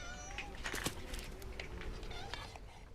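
Domestic cats in a feral colony at the village of Ginostra meow repeatedly, several overlapping calls near and far over a constant outdoor background hum.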